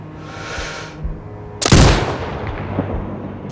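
A sniper rifle fires in the video game Sniper Ghost Warrior Contracts 2, with one loud, sharp shot partway through followed by a fading rumble, over quieter game ambience and a softer earlier thump.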